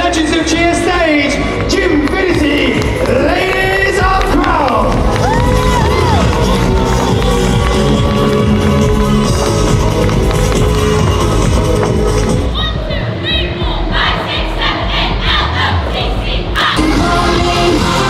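A loud crowd cheers and shouts continuously at the Legends of Cheer stage during the Arnold Sports Festival 2022 expo, with music and a dense roar of voices throughout.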